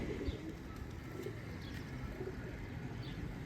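Pigeons cooing on a Punjabi village rooftop, soft repeated coos and faint chirps spread across a steady low background hum, fairly distant and quiet with no talking.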